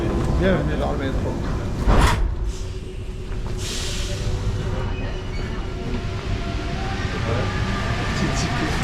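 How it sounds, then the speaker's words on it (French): Paris metro train and station ambience: rumbling rail noise and carriage sounds in a busy underground station, with people talking throughout and a brief sharp clatter partway through. "Bienvenue dans le métro."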